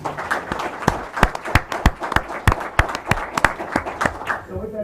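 Applause from a small audience at a borough council meeting in Bloomingdale, with irregular, fairly sharp claps spread through the room and a few louder ones standing out, ending with a faint voice.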